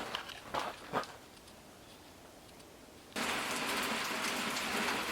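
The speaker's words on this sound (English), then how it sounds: "Waking up to a little bit of rain." Light rain falls outside a farmhouse on a cold morning. A faint patter comes first with a few nearby knocks, then a louder, steady hiss of rain on a surface takes over for the last couple of seconds.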